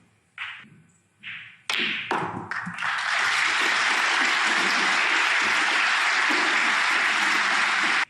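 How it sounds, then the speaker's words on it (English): A snooker crowd at a professional tournament hall applauds a player who has just won the match. A few sharp knocks come first, then loud, dense applause swells and holds steadily for several seconds. "That prolonged applause is for Judd Trump,"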